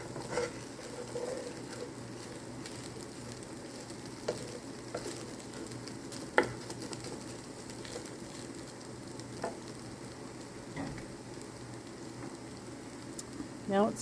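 Scrambled egg fries softly in a pan for leftover fried rice, a steady low sizzle broken by occasional scrape taps as the larger pieces are chopped up.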